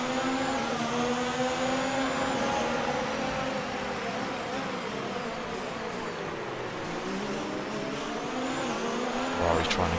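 Formula 1 cars getting away at the race start in the F1 2019 video game at Bahrain, a dense, loud wall of high-revving engines with rising and falling pitch sweeps throughout.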